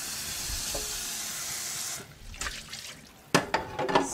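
Hot melted mixture poured into a bowl of flour and salt gives a steady hissing, sizzling rush that stops, followed by a few soft clatters and scraping knocks.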